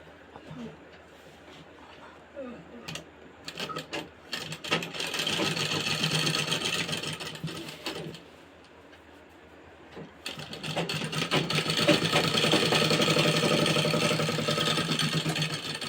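A sewing machine stitches fabric pieces of a Patiala suit together in two long, loud, steady runs, separated by quieter pauses with handling clicks and faint background voice.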